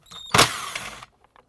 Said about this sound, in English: We're going to use 8mm socket.